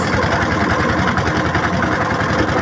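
A boat engine runs throughout a boat ride, a steady, loud, close droning rumble with no breaks and no talk.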